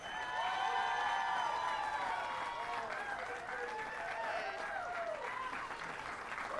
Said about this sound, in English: how about one more round of applause for our 2 finalists this evening?